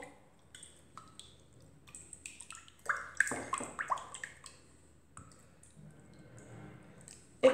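An egg is worked into yeast dough for soft sugar-topped braided sweet buns, giving scattered wet squishes and sticky clicks that bunch together midway through before thinning out.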